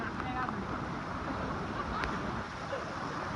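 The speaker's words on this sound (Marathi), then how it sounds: "पाहू शकता पाण्याचा प्रवाह किती मोठ्या प्रमाणात वाढला" A strong stream near Daryaghat waterfall flows in a loud, steady broadband rush with wind buffeting the microphone, close and unbroken throughout.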